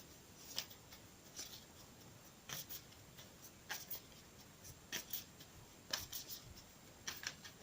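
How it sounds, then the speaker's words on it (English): Tarot and oracle cards being shuffled, giving quiet, scattered bursts of papery riffling and tapping in an irregular rhythm, close and soft, with no voices. "I always shuffle the cards before each reading, but I'm shuffling them an extra time for you now"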